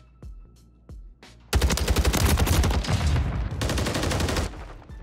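Gunfire from a gun in Warzone: a few isolated shots with gaps between them, then a loud sustained automatic burst of rapid, close shots lasting several seconds before it cuts off.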